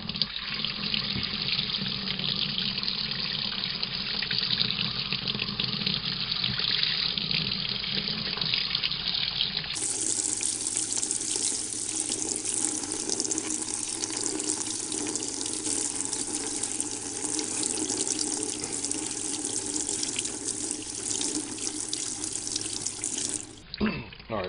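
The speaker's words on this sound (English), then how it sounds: "you want to use some really hot water" Hot water runs steadily from a tap into a sink for the whole stretch, a constant rushing splash with no talk over it, its tone changing abruptly partway through as the flow or the water level shifts.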